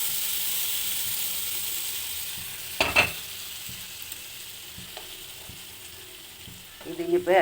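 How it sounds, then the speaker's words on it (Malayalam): Grated coconut roasting in a pan for a papaya and lentil olathu curry gives a steady soft sizzle, with a few louder scraping stir strokes near the start and again at the end. No one speaks. "തേങ്ങ അധികം മൂക്കം ചെയ്യരുത് കേട്ടോ"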